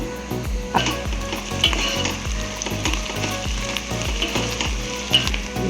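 Country chicken (naatu kodi) with salt, turmeric and chilli powder fries loudly in a pan, a dense sizzle broken by regular rhythmic scrapes and knocks of stirring, close and prominent with no talking.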